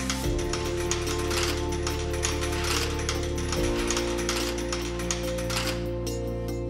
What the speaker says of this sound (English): Roll the hose back up on the CDU using the remote control.